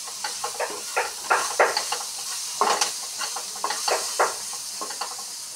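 Onions frying with crab in a pan give off a steady sizzling hiss, broken by irregular scraping as a utensil stirs them, close by and with no talk.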